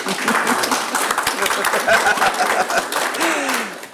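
Applause in a board of directors meeting room, a loose burst of clapping from a modest group with some chuckles and murmured voices mixed in, fading near the end.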